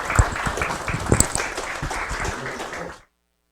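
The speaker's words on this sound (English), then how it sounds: "Let's give Javier a round of applause" A seated audience claps for a presenter at a project talk, a short burst of dense applause lasting about three seconds before cutting to silence.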